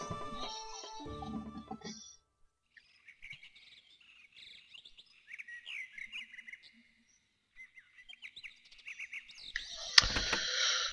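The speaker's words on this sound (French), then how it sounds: "c'est sympa de mettre les petits bruits d'oiseaux le matin" Morning birdsong from the game Suikoden II: soft, scattered chirps and tweets at low level with pauses between them, ending in a brief louder burst of noise.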